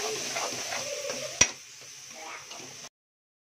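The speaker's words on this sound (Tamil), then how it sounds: "நல்லா வதக்கலாம் மசாலா எல்லாம் கலந்துக்கிற மாதிரி." Dry fish masala sautéing in a pan with garam masala, sizzling steadily as a spoon stirs and scrapes, with one sharp clack partway through before the sound cuts off to silence.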